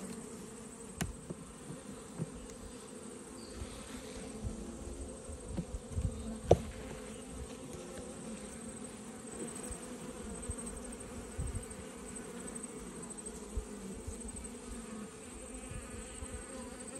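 Honeybees buzz around an opened, weak hive in autumn, a dense, steady drone close by with occasional faint clicks and knocks from the frames.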